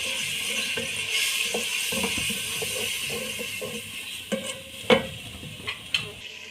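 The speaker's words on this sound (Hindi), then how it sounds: "अब हम इन सारे मसालों को 5 मिनट तक अच्छी तरह भून लेंगे।" Masala for chana sizzles in a pan, with a low frying hiss under repeated spoon scrapes and a few louder knocks against the pan near the end.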